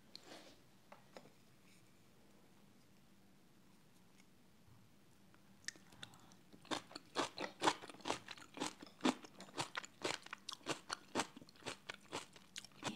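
Crisp, close crunching of homemade traditional Korean kimchi being bitten and chewed, quiet at first, then a rapid run of sharp, irregular crunches for several seconds.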